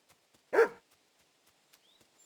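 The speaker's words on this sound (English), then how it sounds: "Barking?" A dog in the medieval role-playing game Kingdom Come Deliverance 2 gives one loud, close bark, then the scene falls nearly silent apart from faint clicks.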